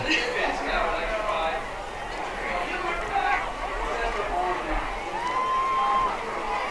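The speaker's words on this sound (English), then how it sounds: "Cheer blocks are going wild." A high school football crowd in the cheer blocks cheers and chatters in a steady, loud wash of voices, with a nearby voice talking over the noise throughout.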